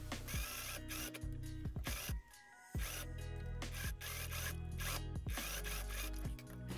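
A sewing machine stitches corduroy fabric close to the edge for a fall dress, giving a steady close mechanical whir and rattle that runs almost the whole time with two short pauses.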